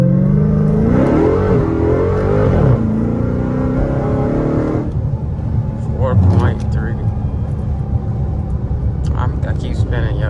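A Dodge Charger Hellcat Redeye revs hard and close with wheelspin, the engine note climbing and wavering before dropping to a rough rumble, with someone talking over it.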